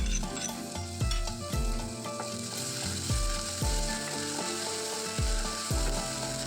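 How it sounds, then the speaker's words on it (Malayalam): Ginger, garlic, green chili and pepper paste hits hot oil in a tempering for a Kerala Onam curry, sizzling loudly and steadily with repeated stirring scrapes and spoon knocks against the pan, close up, no voices. "ഇനി അതിലേക്ക് നമ്മൾ ചതച്ച് വെച്ചിട്ടുണ്ടായിരുന്ന ഇഞ്ചിയും വെളുത്തുള്ളിയും പച്ചമുളകും കുരുമുളകും കൂടിയിട്ടുള്ള കൂട്ട് അത് ഇതിലേക്ക് ഇട്ട് കൊടുക്കാം."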